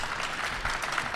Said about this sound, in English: So let's give Deonte a nice round of applause.